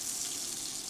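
Mixed vegetables with peas and carrots sizzle steadily in a pan on an induction burner, a constant close frying hiss with no talking.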